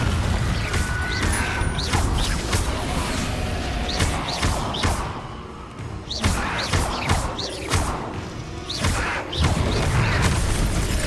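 A Confringo explosive spell goes off in Hogwarts Legacy amid a loud, dense battle mix of booms, thuds and whooshing impacts that keep repeating through the fight.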